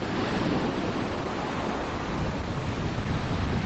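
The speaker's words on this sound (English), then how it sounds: "I hope you're getting the wave sounds as well" Sea waves on Torquay seafront wash in a steady, dense roar close to the microphone, with wind noise blended in and no voices.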